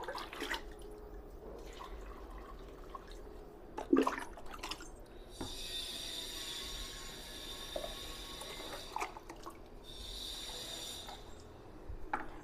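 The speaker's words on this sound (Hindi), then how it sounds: "तो इसलिए मैंने सोचा डाल ही देती हूँ पानी।" Water poured from a container onto potted plants on a hot day, heard as a steady splashing stream in two bursts, with a brief knock in between and no talk.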